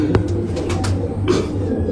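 Pigeons coo softly on a rooftop loft among other bird sounds, a few low throaty coos and faint rustles over a steady background hum.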